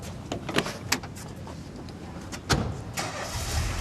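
A car engine cranks and starts, with a sharp door-like clunk and some rustling around it, close and fairly loud without talk.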